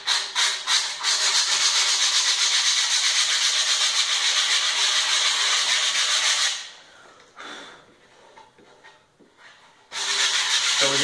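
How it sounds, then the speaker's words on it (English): Loud, steady sanding on the nose of a skateboard deck runs close and continuous for several seconds, drops away into a quieter pause, then resumes abruptly at full strength. "I also like to sand down the nose a little bit."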